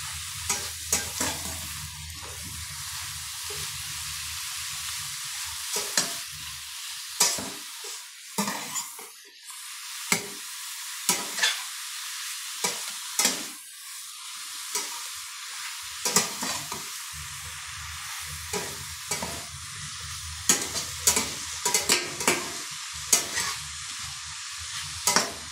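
Ridge gourd pieces stir-fry in a pan, a continuous sizzle broken by repeated scraping and clinking strokes of a spoon against the metal, close and clear with no talk.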